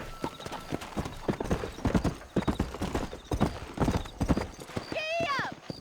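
A horse gallops in the video game Red Dead Redemption with quick, close clip-clop hoofbeats, and a whinny rises near the end. Someone speaks over the hooves.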